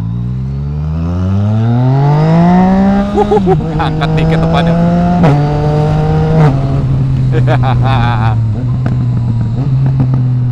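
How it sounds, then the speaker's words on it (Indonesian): A motorcycle fitted with an Akrapovic exhaust revs up loudly and rises steadily in pitch, then drops and holds at lower revs while sharp popping backfires crackle repeatedly. Someone talks briefly over it. "Wah, backfire-nya sih the best banget ya."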